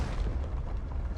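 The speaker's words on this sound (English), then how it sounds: "Explosion." In the video game Honkai Star Rail, an explosion sounds as a dense, loud, low rumbling blast that stays full throughout one short burst.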